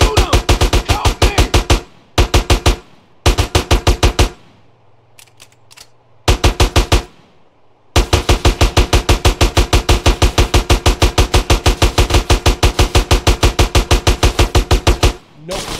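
Rapid automatic gunfire in GTA San Andreas rattles off in loud, dense bursts separated by short pauses, with one long sustained stream of shots near the end.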